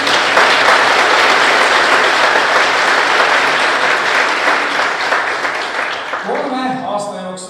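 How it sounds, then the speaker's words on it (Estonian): Loud, dense applause from the audience at a Kohila high school graduation ceremony, sustained clapping that thins near the end as a voice begins speaking. "aplaus."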